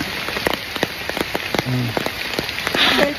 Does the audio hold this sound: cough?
no